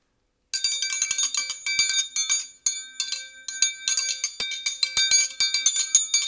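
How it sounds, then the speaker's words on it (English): A bright metallic triangle rung rapidly and repeatedly, the clanging strikes ringing out close and loud in uneven bursts. "Come and get it triangle"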